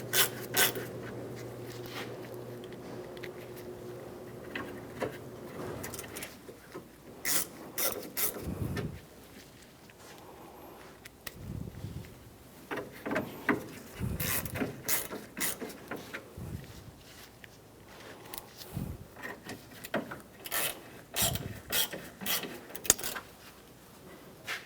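A ratchet clicks in quick bursts while tightening bumper cover screws on a 1997–2001 Honda CR-V, with rubbing and handling noises between runs, close and fairly quiet, with no talking.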